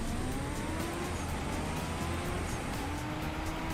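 A race car in CSR2 Racing accelerating hard with nitrous, a loud continuous engine roar with rising whine that climbs through gear changes, close and steady.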